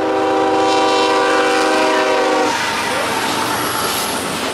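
A freight intermodal train led by two SD45T locomotives on the Greenwich Sub sounds a loud, sustained horn chord that cuts off midway, leaving the rumble and rolling clatter of the passing cars.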